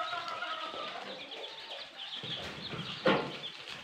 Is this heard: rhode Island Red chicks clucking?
yes